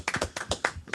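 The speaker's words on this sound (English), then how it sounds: "Can I get a round of applause for that?" A quick burst of hand clapping, several sharp claps in about a second, fairly close and without other sounds.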